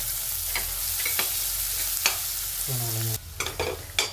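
Onion stir-fried in a pan with a little salt gives a continuous sizzle, punctuated by sharp spatula scrapes and a brief squeaky rasp near the end.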